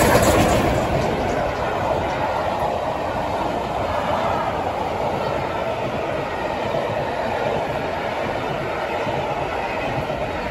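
The Flying Scotsman steam locomotive hauling carriages past a farm, a steady, fairly distant rumble of rolling train noise that holds evenly throughout, with a faint voice near the start.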